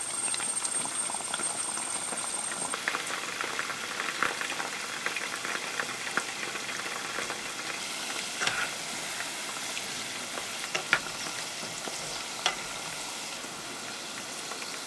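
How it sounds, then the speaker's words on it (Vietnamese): Chicken breast sizzles and bubbles steadily in hot oil over medium heat, a constant crackling fry with occasional sharper pops, close by and without talk. "Tiếp theo cho gà vào chiên với lửa vừa."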